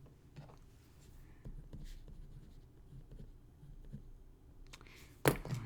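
A math expression being written by hand, with faint scratching strokes over a low room hum, ending in a louder scrape, quiet and close, no talking.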